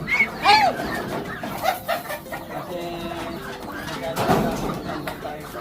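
Ducks calling outdoors on a farm, a few scattered quacks and squawks mixed with other bird sounds and people talking nearby.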